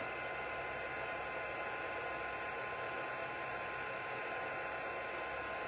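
An embossing heat tool blows hot air to melt embossing powder on a pop-up card, a steady, faint whirring hiss that runs unbroken throughout.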